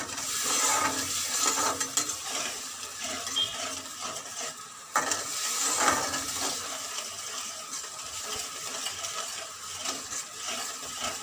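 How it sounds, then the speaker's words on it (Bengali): Yogurt is stirred into a pointed gourd and poppy seed mixture cooking in a pan over a gas flame, a steady, close scraping and swishing that runs continuously with a short break midway. "তো এটা একটু ভালো করে নাড়তে হবে, এর সঙ্গে মিক্স করে নিতে হবে"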